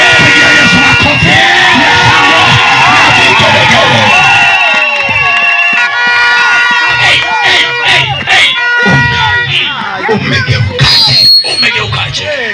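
A church congregation erupts in loud cheering, yelling and shouting, a dense crowd roar close by. The excited voices rise and fall in bursts with brief dips throughout.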